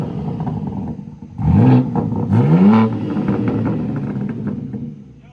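A BMW G82 M4 with a Dinan X-pipe mid-section exhaust revs loudly in two sharp bursts that rise and fall, followed by a steady rumbling idle, with no talking.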